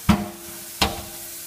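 Two sharp cracks a little under a second apart as frozen acai bricks softened under running water are broken up by hand, close and brief over a faint steady hiss.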